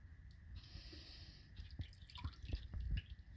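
Processed cattail fluff being squeezed by fingers under water in a bowl of ash lye, giving soft squelching and dripping sounds with small splashes, close and quiet, growing busier toward the end.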